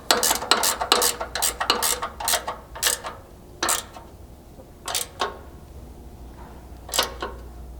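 Ratcheting 9/16 wrench tightening a bolt on a Ford Bronco rear lower control arm skid plate, close up, bursts of quick metallic ratchet clicks that slow into spaced single clicks, no talking.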